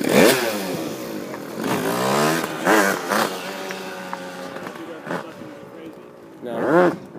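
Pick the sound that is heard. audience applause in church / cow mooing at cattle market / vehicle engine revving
vehicle engine revving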